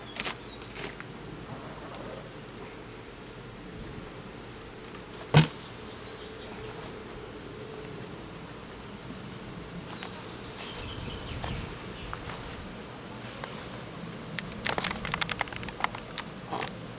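A honey bee swarm is being removed from a hive in Boylston, Massachusetts. A steady, dense buzzing runs throughout, with a few sharp knocks and clicks close by and no talking.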